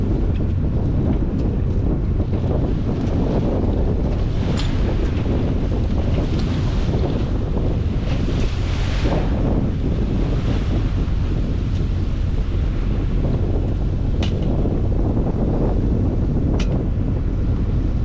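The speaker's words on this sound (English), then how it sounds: "Those waves brought us down to almost a dead stop." Steady wind buffets the microphone aboard a sailboat heading to windward between Corpus Christi and Rockport in December, with waves slapping and washing against the hull throughout, loud and continuous with no talk.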